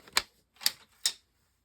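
Paper card is scored at a half-inch mark with three crisp, dry scraping clicks, evenly spaced about half a second apart, close and fairly quiet with silence between them.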